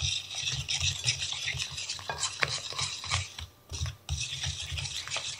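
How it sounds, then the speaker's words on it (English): Baking ingredients mixed with orange juice are stirred in a bowl, giving a steady close scraping, rubbing churn with brief pauses, with no talking. "We're gonna stir this together."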